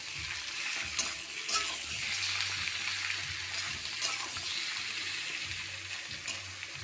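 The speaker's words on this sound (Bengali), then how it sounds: "পেঁয়াজ আর চিকেন একসঙ্গে ভেজে নেবো" Onion and chicken fry together in a pan, a steady sizzle with occasional stirring scrapes and clinks of a utensil, fairly close and moderately quiet.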